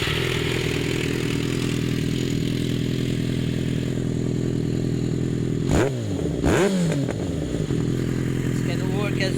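A motorcycle with about 6,576 miles idles steadily nearby with a low, even rumble, and a couple of brief revs rise and fall near the middle.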